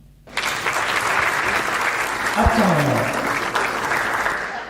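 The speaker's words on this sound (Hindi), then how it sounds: "तालियां चाहूंगा।" Audience at a Hindi comic poetry recital breaks into loud applause after a brief quiet start, a sustained roar of clapping with a short spoken word over it.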